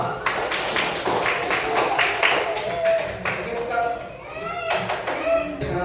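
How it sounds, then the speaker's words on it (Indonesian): Classroom applause at an elementary school coding lesson, with scattered hand claps spread over the first few seconds, mixed with children's lively voices and cheers throughout. "Oke, tepuk tangan untuk kita semua."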